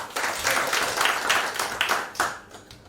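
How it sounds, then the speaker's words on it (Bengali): An audience at a college alumni committee declaration ceremony gives a short burst of applause for the chairman, many hands clapping unevenly before the clapping thins out and fades. "চেয়ারম্যান স্যারের জন্য একটা হাততালি আছে সবার।"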